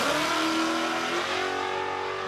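No-prep drag racing cars, including an HQ Holden, roar at Warwick Dragway in Australia: a loud, sustained, throaty engine drone holding steady and slowly fading as they pull away, with no talking.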